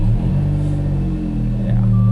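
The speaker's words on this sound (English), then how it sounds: "Let's go ahead and turn it on. Here's the start button." 2025 Maserati GT2 Stradale engine running with a deep, loud, steady rumble close by, its pitch shifting slightly as it settles near the end.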